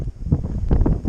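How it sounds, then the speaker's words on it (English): Powerful gusts of wind buffeting the microphone outdoors, a loud low rumbling roar in uneven surges over about a second. "It's quite powerful gusts of wind."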